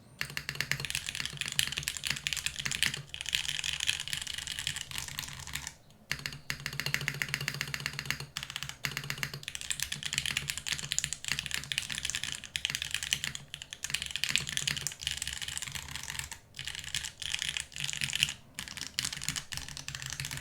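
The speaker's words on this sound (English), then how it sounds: "I don't love the way the spacebar sounds in this configuration with PBT though" Steady, close typing on a mechanical keyboard fitted with PBT keycaps: dense, continuous clacking with brief pauses, heard alone without any talking.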